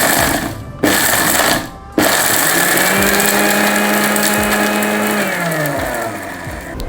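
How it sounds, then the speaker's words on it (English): An electric blender grinds dry chili, turmeric and asafoetida powder, a loud, steady high whirring drone that cuts out twice in the first two seconds, then runs on continuously and eases slightly in pitch. "And now we'll start blending the spices."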